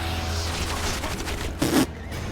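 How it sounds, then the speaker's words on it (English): Enemies shooting at the player during a battle in The Witcher 2: Assassins of Kings, a dense, continuous clatter of game combat noise with a louder burst near the end. "They're shooting!"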